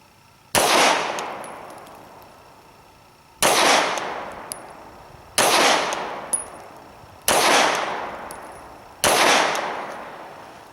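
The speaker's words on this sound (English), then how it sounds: "I'm going to shoot from 5 meters, just really focus in on accuracy" Five sharp, loud pistol shots from a Glock fired at a 5-meter target, spaced roughly two seconds apart, each with a short ringing decay; no talking.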